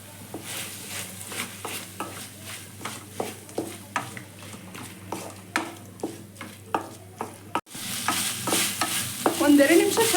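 Chicken pieces seasoned with salt and turmeric powder are stirred in a hot pan, a steady series of close scraping strokes over a soft sizzle, then the frying swells louder and brighter toward the end.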